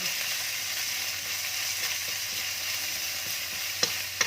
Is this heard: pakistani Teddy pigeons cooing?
no